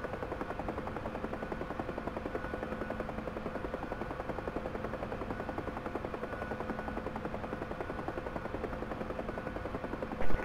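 A UH-1 Huey helicopter in the DCS flight simulator comes in to land on a helipad, its steady rotor chop and turbine whine running continuously and loud throughout, with a brief louder burst at the very end.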